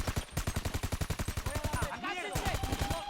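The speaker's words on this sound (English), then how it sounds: "Who's shooting me now?" Rapid automatic gunfire in GTA V during the Cayo Perico heist finale, a steady fast stream of close, loud shots with a brief burst of other explosive noise midway, and a voice speaking over it.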